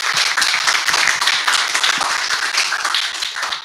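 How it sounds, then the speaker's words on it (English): Audience applause after a talk at an automotive event, a dense, steady wash of many hands clapping close by, sustained evenly throughout with no voices over it. "let's give Paul a round of applause"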